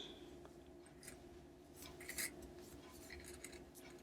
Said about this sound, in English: Sorry about that scratchy noise, that's my ball band.